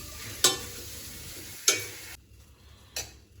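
Tempering seeds, peanuts and onions fry in hot oil for onion rice, a soft sizzle running beneath three sharp scraping clacks of a spoon against the pan, spaced roughly a second apart.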